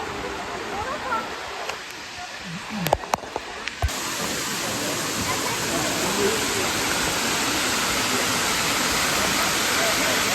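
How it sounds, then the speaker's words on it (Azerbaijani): A waterfall near Sim village in Astara, Azerbaijan, roars as a broad, steady rush of water that grows fuller partway through, with a few brief knocks and some talking in the first seconds. "Səsi gəlir şəlalənin, amma görək necə yerdir."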